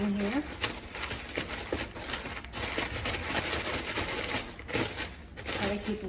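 Small gar nuggets are tossed in a bag, giving a steady crinkling, rustling shuffle that runs throughout at close range, with talk over it.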